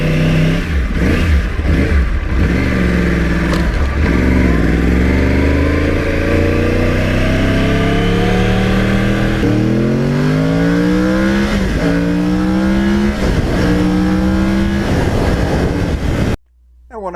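Yamaha R1 crossplane sport motorcycle riding on northern New Jersey roads, its engine loud and close, revving up through the gears in repeated rising pulls with short dips at each shift before cutting off near the end.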